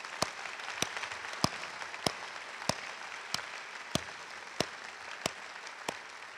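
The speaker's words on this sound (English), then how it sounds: "very warm round of applause" Audience at a commencement ceremony applauding in a soft, distant wash, punctuated by sharp regular clicks or knocks roughly every half second, with no speech.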